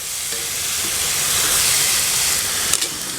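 Chicken and sausage gumbo with chopped garlic sizzles steadily in a hot pot while being stirred, a dense, close hiss that swells slightly midway, with a couple of brief clinks near the end.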